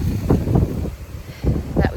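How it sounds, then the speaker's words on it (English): Tropical-storm-force wind gusts in the aftermath of Hurricane Milton buffet the microphone in bursts, with low rumbling surges that swell and ease repeatedly over a couple of seconds, loud and close. "We're still experiencing tropical force winds and wind gusts"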